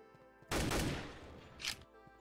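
A burst of gunfire from a multiplayer shooter game still in development, with a dense volley followed by a second, shorter shot, heard alone in a quiet room.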